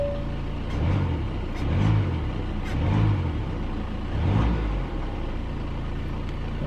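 Steady idle of an Audi A4 engine just after starting, a low rumble heard close up with gentle rhythmic swells and no voices.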